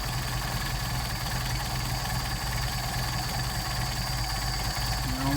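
Mercedes 190SL engine with Solex carburetors idling in cold weather, a steady, even mechanical hum and rumble held at a constant level throughout, close up with no talking.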